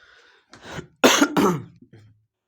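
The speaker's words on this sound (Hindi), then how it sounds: "खांसी आ रहा है जी" A teacher in a physics class coughs and clears his throat in a short cluster of harsh bursts, a brief rasp, then two strong coughs and a trailing throat clear, close and loud.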